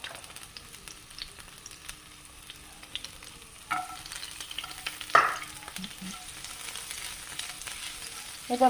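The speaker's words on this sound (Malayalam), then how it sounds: "എണ്ണ നന്നായിട്ട് ചൂടായിട്ടുണ്ട് നമുക്ക് ഇഞ്ചി ഇട്ട് കൊടുക്കാം നമുക്ക് ആ വെളുത്തുള്ളി കഷ്ണം ഇട്ട് കൊടുക്കാം" Ginger and garlic pieces dropped into well-heated oil for a chutney give off a steady, low sizzle with a few stirring scrapes and a brief louder crackle as they hit the pan.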